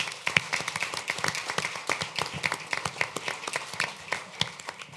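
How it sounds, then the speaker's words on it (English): Scattered applause from a modest audience at a city council meeting, individual claps standing out in an uneven patter that continues steadily. "I'd love to give them a big round of applause for their family"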